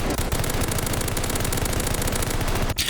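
Rapid automatic gunfire from the Call of Duty Vanguard video game, wallbang shots fired through a bed beam, a dense continuous burst running loud and close for nearly three seconds before a brief gap and a final shot.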